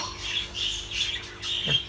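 A budgerigar gives several shrill, scratchy squawks in quick succession, close and fairly loud, with brief pauses between calls.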